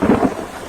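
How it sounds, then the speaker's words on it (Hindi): A thunderstorm with heavy rain gives a brief, loud burst of deep rumbling thunder over a dense wash of falling rain, with no voices. "बारिश और तूफान इतना तेज था"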